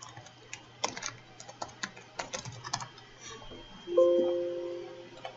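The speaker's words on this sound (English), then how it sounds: "I'll type in manual registration" Typing on a computer keyboard at a desk, a run of quick, uneven clicks and taps close by, followed near the end by a short steady tone.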